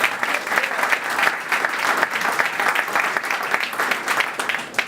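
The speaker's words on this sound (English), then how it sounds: "Let's give him another round of applause." Sustained applause rises from an audience honoring a mayor at a civic address, many hands clapping together in an even, full roar for the whole stretch.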